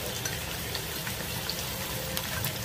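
Curry for doi potol bubbles and fries in oil in a pan, giving a dense, even, rain-like crackle and hiss that stays close and steady from start to finish with no voices.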